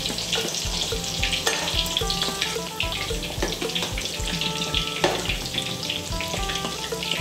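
Thai fish cakes deep fry in a pan of hot oil, giving a dense, steady sizzle and crackle with a few scraping stirs, close and alone.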